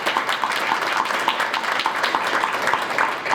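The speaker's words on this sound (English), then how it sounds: "would you join me in giving a special round of applause to Roy Turner" An audience at a library program applauds Roy Turner, a dense, steady round of clapping from a roomful of people lasting throughout, fairly close and even.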